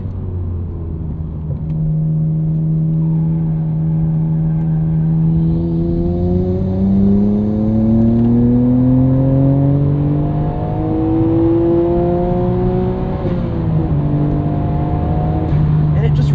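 A 1999 Nissan Skyline R34 GT-R with a twin-turbo engine revs up with a rising tone, climbing smoothly and holding high, then dropping briefly before building again, loud and close from inside the car, with someone talking over it.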